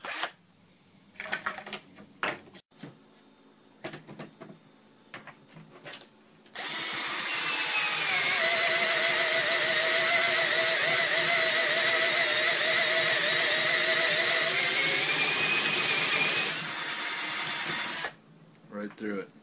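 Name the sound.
cordless drill drilling through wood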